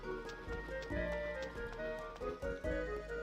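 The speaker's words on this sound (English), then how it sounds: "Could you ever find a finer horse?" Hooves clop unevenly from a horse in the video game Suikoden III, moderately loud beats over a layered game soundtrack with sustained tones.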